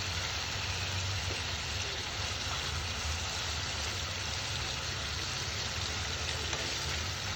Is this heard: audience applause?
no